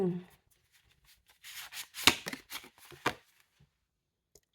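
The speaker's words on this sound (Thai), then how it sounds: "ขอขยับไพ่นิดนึง" Tarot cards being moved and shuffled on a table, a few quick papery riffles and slides in short bursts with quiet gaps between them.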